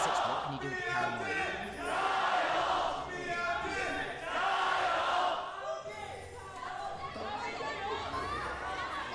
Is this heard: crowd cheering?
yes